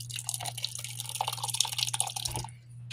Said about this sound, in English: at this point, you're going to go ahead and add your sauce